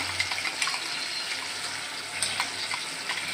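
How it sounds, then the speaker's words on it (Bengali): Water poured into a pan of chicken curry with onion, tomato and ginger-garlic paste, a close, steady sizzling hiss with light splashy bursts throughout, no voices. "একটু জল দিয়ে দেব, একটু অনেকটা লেগে আছে।"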